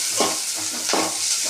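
Garlic cloves and chopped onion pieces frying in oil, a continuous close sizzle broken by a few scraping stirs of a spatula in the pan, no talk.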